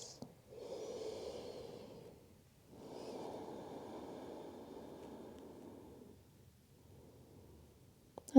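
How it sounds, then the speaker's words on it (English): Slow, deep yoga breaths: a long breathy inhale and an extended exhale, close and soft, followed by a quieter trailing breath, with no talking. "Taking 2 more deep breaths."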